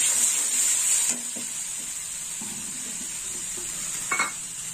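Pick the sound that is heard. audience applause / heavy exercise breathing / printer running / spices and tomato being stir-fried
spices and tomato being stir-fried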